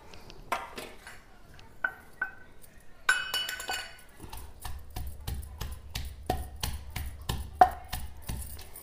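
Green chillies, garlic and cumin pounded and ground in a stone mortar, with sharp stony knocks and clinks in a rough repeating rhythm, close by, and a low grinding rumble between strikes.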